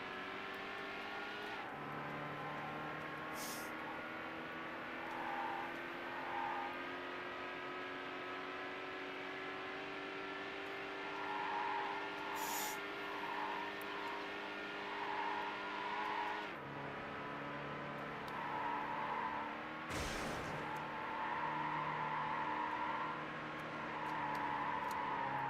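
Racing video game car engines drone steadily at low volume, rising and shifting in pitch as gears change and speed builds, with occasional sharp clicks over the continuous hum.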